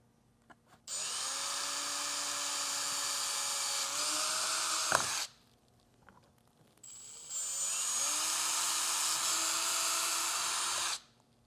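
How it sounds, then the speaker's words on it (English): A power drill bores a 1/4-20 hole for an Xpedition Cuero ute mount, whining steadily at high speed for about four seconds. After a short pause it runs a second steady, close, loud stretch with no talk. "go ahead and make our final 2 holes to be drilled, again using the same 1/4-20"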